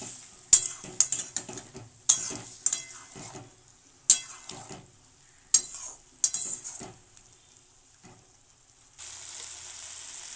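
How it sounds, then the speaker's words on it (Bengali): Fish frying with turmeric in a pan gives a soft sizzle under repeated scraping and clattering stirs of a spoon, which come in irregular bursts and then stop, leaving a steady hiss. "তিন চার মিনিট ভাজার পরে এবার এর মধ্যে লবণ দিয়ে দিব"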